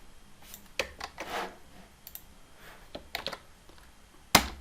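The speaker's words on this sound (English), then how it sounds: "So you then type into that iffy.com." Keys tapped on a computer keyboard while a web address is typed: scattered, irregular clicks at close range with short pauses, ending in one sharper, louder key strike.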